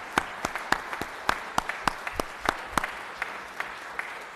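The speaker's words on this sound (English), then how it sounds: "Please give him a great round of applause." Applause in the Georgia state Senate chamber during a special session, steady crowd clapping with several sharp, distinct nearby claps standing out over the dense wash, continuing evenly throughout.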